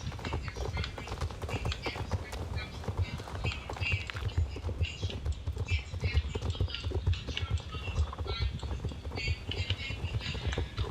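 Horse hooves gallop in the Star Stable Online video game, a fast, continuous drumming of hoofbeats at steady volume that runs for the whole stretch.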